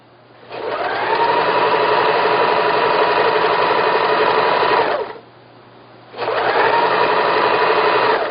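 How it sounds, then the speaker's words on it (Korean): A sewing machine stitches a Korean floor cushion in two loud, close runs, each a steady high whirring hum that ends abruptly, separated by a brief pause, with no talk. "이렇게 여기 1cm, 여기 1cm 남겨놓은 후에 박음질이 시작됩니다."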